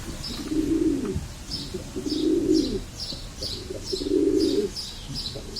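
Carrier pigeons coo in a coop, low rounded coos repeating about every second and a half at moderate distance, with faint chirps above.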